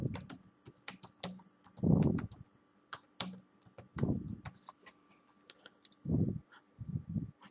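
Keys clack on a computer keyboard as a caption is typed, in irregular bursts of clicks with a few louder thumps and short pauses, close and clear with no talking.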